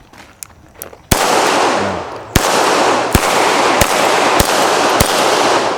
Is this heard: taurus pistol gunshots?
yes